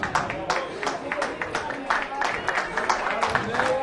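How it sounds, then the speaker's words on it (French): A crowd claps for an award winner at an awards ceremony for racehorses. Dense, steady clapping runs throughout, with voices talking over it. "Sous vos applaudissements."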